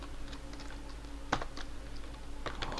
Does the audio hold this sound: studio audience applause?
no